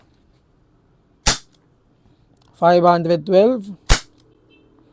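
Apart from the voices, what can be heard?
CO2 airsoft revolver firing shots, WE and WG revolver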